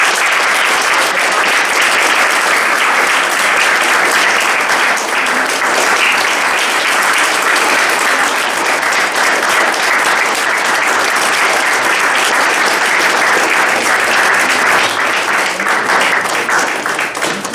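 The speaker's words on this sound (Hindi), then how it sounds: "के साथ जोरदार ताली बजाएंगे" A large audience gives loud, sustained applause, a dense and unbroken roar of clapping that stays at full strength for well over fifteen seconds.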